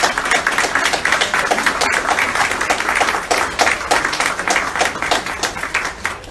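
Congregation applause in a church honoring Jesus, Mary and Joseph, steady scattered clapping with irregular individual claps running throughout, moderately loud and fairly close, without spoken words.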